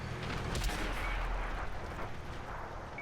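Heavy artillery shell fire in the tank game World of Tanks, a dense rumbling boom with a sustained low roar, loud and close, and no talking.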